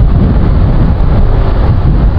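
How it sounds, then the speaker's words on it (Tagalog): Steady, loud wind buffeting the microphone on Ayala Avenue in Makati, a constant low rumble with no voices. "So ito medyo mahangin na."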